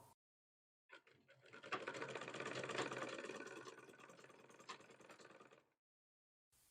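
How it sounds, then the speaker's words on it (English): A sewing machine stitching fabric for a ball gown runs in one continuous whirring burst for about five seconds, its motor humming with a rapid mechanical stitching clatter, then stops. "I'll go to my sewing machine now and sew"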